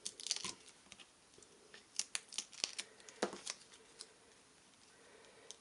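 Crinkly peeling and tearing of tear and tape, a double-sided adhesive tape, as it is applied to a handmade shirt card, coming as a series of sharp, close, irregular snaps and rustles with short pauses between.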